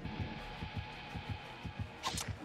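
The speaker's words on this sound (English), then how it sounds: "Listen out for the terror radius or heartbeat." Dead by Daylight terror radius heartbeat, a steady low thumping pulse repeating about twice a second over a sustained eerie hum, with a brief sharp high sound near the end.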